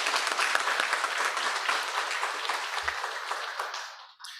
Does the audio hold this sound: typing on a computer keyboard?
no